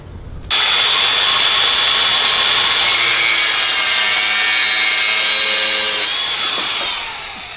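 A power tool cuts through braided stainless steel oil cooler hose, starting abruptly with a loud, harsh, high-pitched whine that holds steady for about six seconds before winding down. No one speaks.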